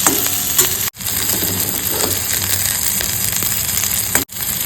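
Medium-cut onion sautéing in a pan, a continuous close sizzle with occasional stirring scrapes, briefly cut to silence twice, with no voices.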